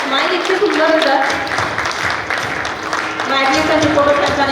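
Audience clapping at a school prize ceremony, a steady crowd applause running throughout with a voice talking over it.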